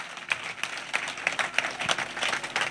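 A church congregation at a salvation and healing weekend in Bingerville claps for Jesus, a lively patter of hands with distinct sharp claps standing out from the group at moderate distance.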